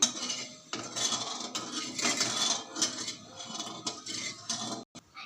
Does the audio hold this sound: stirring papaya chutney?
yes